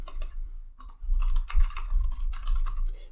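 Fingers typing a Linux terminal command on a computer keyboard, a quick close run of clattering key presses with a brief pause and soft background hum, no talking.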